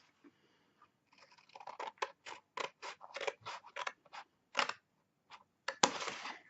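Scissors snip through 12 x 12 designer patterned paper while a handmade gift bag is trimmed: a quick run of about a dozen crisp, close cuts in an uneven rhythm, ending with a louder rustling slice.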